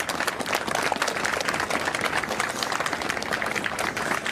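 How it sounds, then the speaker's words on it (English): People clap outdoors at a tribute for Capitol Police Officer Brian Sicknick, and the scattered, sustained applause comes from a crowd spread over an open space. "You can hear folks clapping now"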